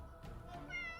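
A house cat gives one short meow close by, rising and fading over quiet room tone.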